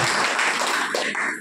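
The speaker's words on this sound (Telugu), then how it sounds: "చప్పట్లు కొట్టి" A church congregation at Sunday worship clapping hands together, a dense burst of many hands close by, fading slightly at the end.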